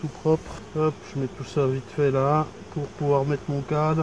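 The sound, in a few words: honey bees buzzing around an opened beehive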